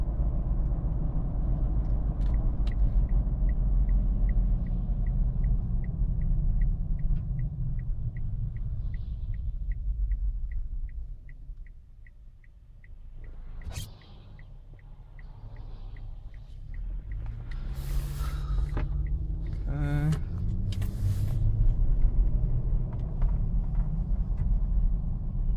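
A car with a transmission stuck in drive cruises at about 35 to 40 miles per hour, a steady low engine drone and road rumble filling the cabin, with a rhythmic ticking and a few brief clunks and rattles.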